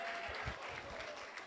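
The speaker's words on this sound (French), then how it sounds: "On applaudit très fort pour Hans Luzolo." Applause from a large audience at a Congolese wedding-anniversary celebration: steady, dense clapping that fills the whole short stretch at a moderate distance, with no voices over it.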